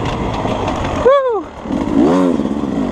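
A 2020 Beta 250 two-stroke dirt bike on wooded trails gives a loud, sharp rev that climbs and falls, then a second rising rev, with the engine droning steadily between them.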